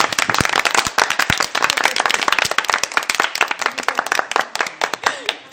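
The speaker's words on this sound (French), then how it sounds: "Applaudissements pour Chantal" A French TV studio audience applauds for Chantal with dense, sharp, crackling hand claps that stay loud and close throughout, with no pauses.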